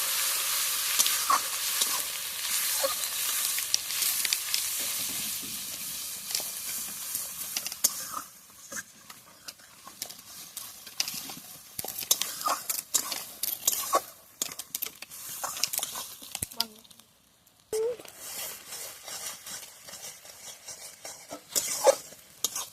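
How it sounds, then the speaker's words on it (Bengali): Onion paste frying in oil with turmeric, sizzling loudly at first and then settling, while a spoon scrapes and clatters against the pan in irregular stirring strokes, with a brief pause near the end. "পেঁয়াজটা ভাজা ভাজা হয়ে গেছে"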